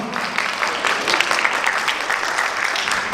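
Steady applause from an audience at a Korean awards ceremony for kindness honors, congratulating a silver prize winner; dense continuous clapping fills the room at moderate level.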